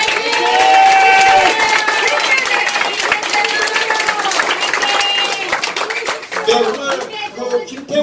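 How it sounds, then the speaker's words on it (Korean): Applause and clapping from lawmakers and attendees at a press conference in a National Assembly members' office building seminar room, loud and sustained, with voices mixed in and a speaker talking over it toward the end. "우리 의원님들 다시 한번 박수 격려해주시기 바랍니다."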